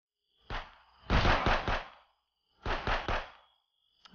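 Gunshots in Contraband Police ring out close and sharp: a single shot, then a rapid triple burst, a pause, and another quick triple burst, each with a short echoing tail over silence.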